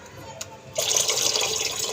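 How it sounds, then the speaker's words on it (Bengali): Tap water gushes suddenly and keeps running loud and close as fish are washed at an outdoor sink, following a brief moment of quiet with a single small knock. "মাছ ধুচ্ছি ভালো করে।"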